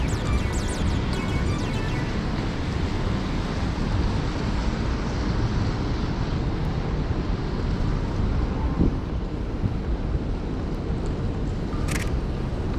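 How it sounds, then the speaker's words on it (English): Strong wind buffeting the microphone in a snow-covered city street, a constant loud roaring rush without pause throughout, with no voices. "Look at the wind. The wind giving it right now,"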